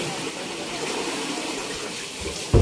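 Water rushes steadily into a steam bath tub as the water is changed, a continuous broad gush with a louder splash at the very end.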